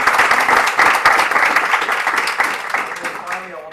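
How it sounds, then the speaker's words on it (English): Audience applause for a cybersecurity litigation panel at a legal conference, dense and steady clapping that fills the room and fades slightly toward the end. "give them a round of applause"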